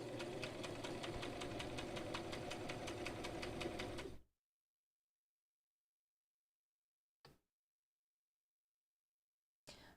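A sewing machine stitching clothes runs steadily for about four seconds with a dense, fast mechanical chatter, then stops, leaving silence broken by two brief faint bumps.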